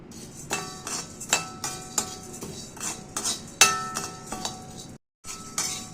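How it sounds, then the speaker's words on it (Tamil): Chana dal, about 100 grams, dry-roasted in a pan for homemade Tamil curry masala powder, with a spoon stirring, scraping and clinking against the metal in irregular close strokes and a brief silent gap near the end. "கடலை பருப்பும் நல்லா வறுபட்டுடுது."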